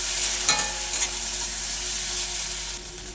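Spices, chilli powders, cumin and curry leaves being stirred in a frying pan, a steady close sizzle of oil with scraping of the spoon and a couple of brief louder clinks, with no voices.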